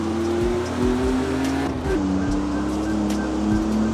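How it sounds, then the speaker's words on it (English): Engine of a car in the CarX Street racing game, carrying a roof cargo box, drones steadily with a smooth rising and shifting tone, loud and continuous, with road and wind noise underneath and no talking. "Now let's take it for a drive so you can see how it handles and performs at its default setup"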